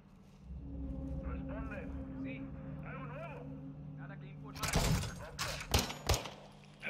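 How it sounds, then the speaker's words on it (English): Gunfire in the video game Call of Duty: Modern Warfare 2, a quick cluster of sharp loud shots near the end, following a stretch where voices talk over a low engine-like drone. "That gunfire alerted them."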